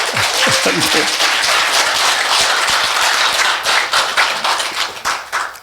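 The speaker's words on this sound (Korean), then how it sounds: "박수 한번 쳐주죠." Loud, dense clapping from a crowd at an interfaith Thursday prayer gathering, sustained for several seconds before thinning toward the end, with a voice briefly audible near the start.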